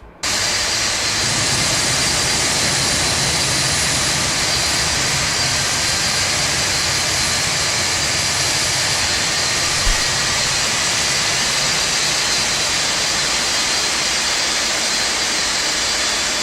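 Four JT9 jet engines on a Boeing 747-200 in the Felis flight simulator spool up and start, building to a steady, loud broadband roar with a high whine on top that holds throughout, with no talking.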